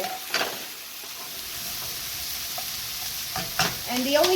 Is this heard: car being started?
no